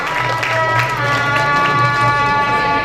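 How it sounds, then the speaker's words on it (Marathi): Audience at a science olympiad prize distribution ceremony clapping loudly, a sustained wash of applause and crowd noise with a steady hum running beneath. "पालकांसाठी तर जोरदार टाळ्या वाजल्या पाहिजे."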